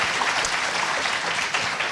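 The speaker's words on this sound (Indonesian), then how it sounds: "Kita berikan aplaus sekali lagi." A studio audience on the Indonesian TV talk show Kick Andy applauds, a dense, steady wash of clapping that stays loud and even for the whole moment without speech.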